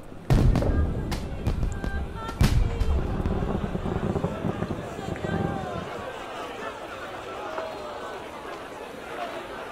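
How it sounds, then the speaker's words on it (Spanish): Fireworks exploding in the Assassin's Creed Unity video game, several sharp distant bangs early on followed by a diffuse crackling rumble with crowd-like background ambience. "Fuegos artificiales."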